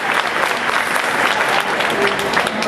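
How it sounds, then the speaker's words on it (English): Sustained audience applause at a Black Comics Month diversity-in-comics panel in New York City, a dense steady roar of clapping hands from a large crowd filling the whole stretch. "he should be applauded for it"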